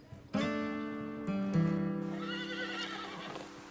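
A horse gives a loud, close whinny that rises and then trails off in a long, wavering neigh, with faint hoof clip-clops beneath it.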